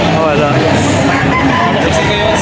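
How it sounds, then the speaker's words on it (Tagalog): Chickens and roosters at a crowded expo cluck and crow close by, a loud, continuous mix of fowl calls over busy background chatter. "Puro manok. Puro manok."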